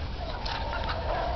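A chicken clucks briefly on a street corner, short bursts over a steady background hum.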